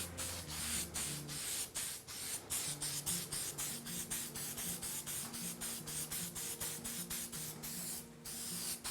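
Steady hiss of an aerosol spray finish on leather, broken into many short bursts in quick succession, close up, with faint music underneath.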